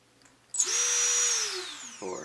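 A quadcopter drone motor, propellers removed, spins up abruptly during a bench test into a sharp, close whine that holds briefly and then winds down smoothly, followed by a short thump.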